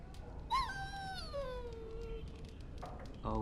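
A dog whines and whimpers in the fantasy role-playing game Dragon Age: Origins, one drawn-out falling whimper followed by fainter short sounds, close and clear with no talking.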